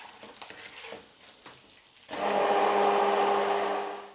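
A stick blender switches on partway through and whirs steadily while blending butter chicken sauce, a loud motor whine after quieter kitchen clatter.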